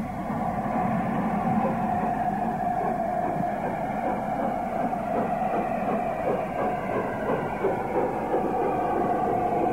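A three-cylinder Class 02 steam locomotive on 1950s British railways pulls away with a continuous rumbling, rhythmic chuffing and rolling rail noise at moderate distance.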